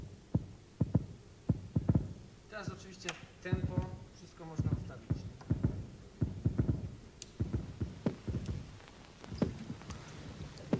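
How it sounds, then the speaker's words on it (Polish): Low, soft thumping pulses in a regular heartbeat rhythm, with a brief buzzy, voice-like passage in the middle before the beats resume. "szmer przebijający się przez ciało, wywołany rytmem kurczących się mięśni serca"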